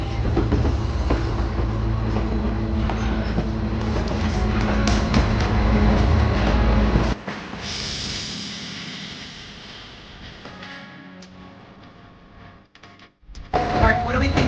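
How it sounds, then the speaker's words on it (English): Continuous rumble and rattle of rail cars rolling on the tracks during a scenic train ride up into the Yukon territory, loud and steady before dropping to a quieter, fluctuating roll, with people talking over it. "we are enjoying this train ride so far"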